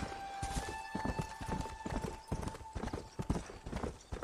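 Horse hooves clip-clop at a steady galloping rhythm in the Red Dead Redemption video game, loud and close, with an occasional whinny and a faint game music tone running underneath.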